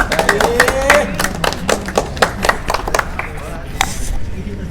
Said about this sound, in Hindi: तो इनके लिए एक बार जरूर तालियां हो जाएंगी।